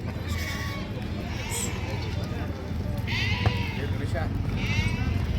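Sheep bleat several times at the Amingad sheep and goat market in Karnataka, a few nearby cries rising over a constant busy crowd murmur.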